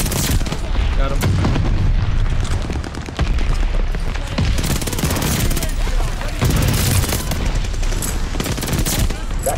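PPSh submachine gun fired in Call of Duty Vanguard, loud, dense automatic bursts and booming shots running almost without pause, with game noise layered underneath.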